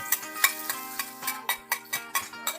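Adobo of chicken liver and gizzards frying in a pan, with about a dozen sharp, regular scraping strokes of a stirring utensil over a continuous close sizzle.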